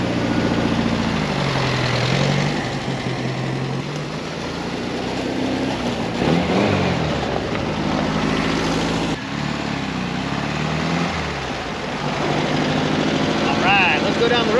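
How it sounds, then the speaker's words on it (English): A 1973 VW Super Beetle, freshly back on the road after 17 years, drones steadily while driving, its engine note rising and falling with speed under continuous road and wind rumble, with a person talking. "Today's the day we finally get to drive the Beetle."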